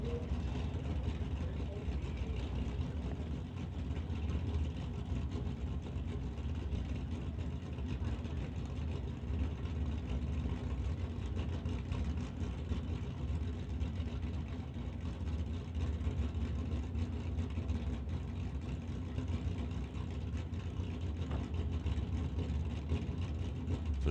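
Drag racing cars, including a Coronet, roll slowly toward the start line at a summit ET drag strip, a low, steady engine rumble heard from a distance under faint crowd and track ambience.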